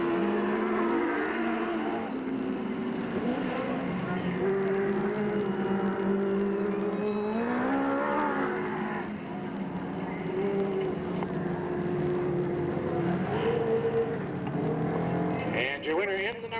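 Dwarf race cars roar around a speedway on the final lap, a continuous loud engine drone with rising and falling pitch as cars pass, under an announcer's commentary over the PA.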